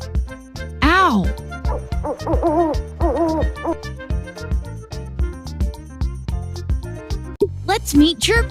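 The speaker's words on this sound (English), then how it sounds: "owl," An owl hoots in a few short rounded calls, partly masked by busy, cheerful backing music that runs throughout.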